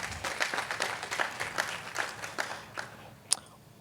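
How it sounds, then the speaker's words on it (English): Faint, distant applause from an audience at a school district's state of the district address, honoring teachers and administrators, with a sharp louder clap near the end before it fades. "Let's give them another round of applause."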